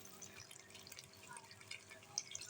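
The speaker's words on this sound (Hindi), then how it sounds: "और ये मसाला जो बचा है ना, इसके अंदर भी आपने पानी ऐड करना है।" Water is poured into leftover egg curry masala in a pan, heard as faint, quiet drips and trickles close by with no talking.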